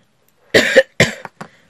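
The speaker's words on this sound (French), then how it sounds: "vous risquez de m'entendre tousser" A person coughs several times in quick succession, close and fairly loud, two strong coughs followed by smaller trailing ones.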